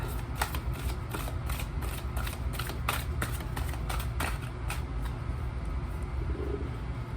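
Tarot cards riffled and shuffled by hand in a steady run of crisp, rapid flutters, close and fairly quiet over a low background hum.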